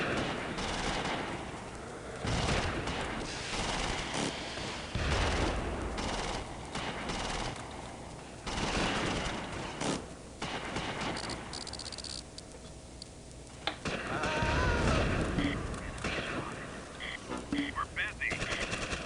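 Dense gunfire and rattling machine-gun bursts from the Normandy World War II strategy game Close Combat, loud and nearly continuous with overlapping volleys across the whole stretch.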